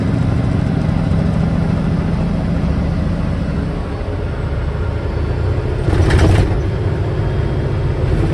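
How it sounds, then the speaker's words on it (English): A truck rattling and rumbling steadily as it drives, with continuous road and engine noise throughout and a brief louder clatter near the end. "This truck rattles so much."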